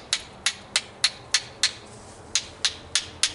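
About a dozen sharp, ringing hammer strikes on a flintknapping billet land at an even, steady pace, each one crisp and close, with quiet in between.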